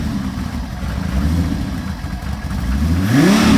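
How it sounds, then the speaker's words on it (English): A Chevrolet Chevelle engine idles with a steady low rumble, then revs up sharply near the end as the pitch climbs, close and loud with no talking. "Give it a bit of RPM there."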